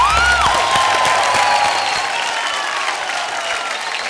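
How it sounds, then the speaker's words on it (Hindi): A studio audience claps in a sustained, dense burst of applause, loud and close, tapering slightly toward the end. "तालियां।"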